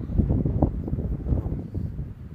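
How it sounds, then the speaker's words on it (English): Strong wind buffets the microphone in a steady low roar with rumbling gusts, close and continuous, with no one speaking. "I hope you can hear this because it is very windy."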